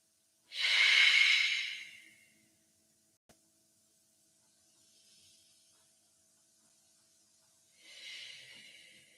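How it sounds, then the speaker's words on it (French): Slow human breathing during a yoga session: a long, loud exhale close to the ear, then quiet, a faint breath and another softer exhale near the end, with no talking. "Une respiration très lente."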